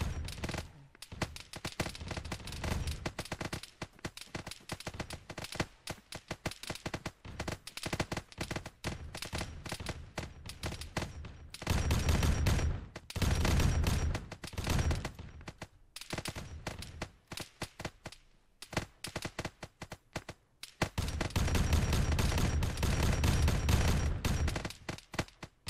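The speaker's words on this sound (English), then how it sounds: "But a bolt gun takes them out real quick." Bolt gun fire from a Space Marine in Arma 3 with the Warhammer 40k mod comes as rapid, loud bursts of repeated shots, with dense stretches of automatic fire broken by short gaps.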